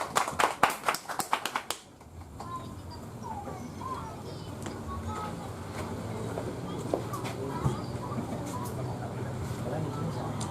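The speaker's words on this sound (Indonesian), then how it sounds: "Tepuk tangan buat Mbak Rizka dan Mbak Joana." A burst of hand clapping from an audience at an evening stage event, loud and dense for about two seconds, then it gives way to murmuring crowd noise and scattered sounds.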